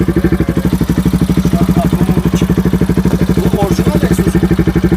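A Bajaj Pulsar 200 RS motorcycle with an aftermarket exhaust idles with a deep, rapid, throaty exhaust pulse, loud and close, steady throughout with faint voices in the background.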